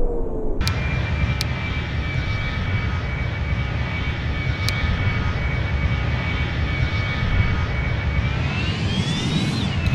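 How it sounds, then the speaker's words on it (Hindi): An airliner's jet engines roar loud and steady as a flight approaches the runway at an airport, with a high whine rising toward the end. "सामने से शायद से कोई फ्लाइट आ रही है"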